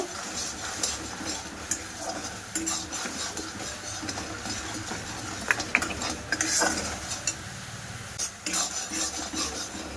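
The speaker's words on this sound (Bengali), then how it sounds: "দিয়ে বেশ ভালো করে চিনিটা গলিয়ে নেব।" A spoon stirs sugar and coconut powder in a pan to melt them down, with soft irregular scraping and light metallic clinks against quiet background hiss.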